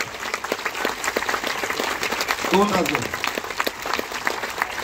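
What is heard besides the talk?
audience applause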